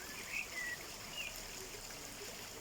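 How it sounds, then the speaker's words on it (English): A powerful Oase pond skimmer pump pushes water around a garden pond, giving a steady, fairly faint trickling wash with no voices. "Quite powerful, so it's distributing water around the pond at the same time."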